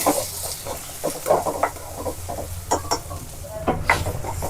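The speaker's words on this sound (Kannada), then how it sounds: "ಮೀಡಿಯಂ ಫ್ಲೇಮ್ ಒಳಗೆ ಇಟ್ಕೊಂಡು ಇದನ್ನ ಫ್ರೈ ಮಾಡ್ಕೊಳ್ಳೋಣ" Onions and green chillies fry on a medium flame with a light sizzle, broken by repeated clicks and scrapes of a spoon stirring the pan at close range.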